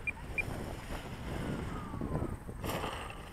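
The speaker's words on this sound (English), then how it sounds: "And the wind." Gusty wind at an RC model airfield rushes across the microphone in a steady low roar with slight swells, around a landing of an E-Flite Carbon-Z Prometheus model plane; no one speaks.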